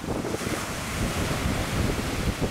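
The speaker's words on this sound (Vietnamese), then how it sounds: "sóng khá cao rồi" Heavy storm waves surge around a high-speed tourist passenger boat at sea, a loud continuous roar of surf and rushing water with strong wind buffeting the microphone and no talking.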